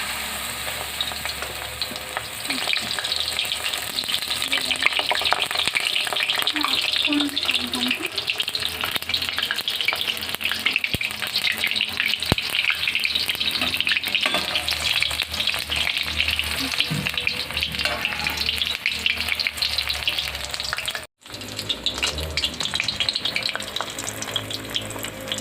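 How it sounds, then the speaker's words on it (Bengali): Cabbage rolls deep frying in hot oil give a steady, loud, dense sizzle with a brief gap near the end. The frying continues with no voices over it. "এবার আমি এই পাতাকপির রোলটাকে তেলের মধ্যে ছেড়ে দেবো।"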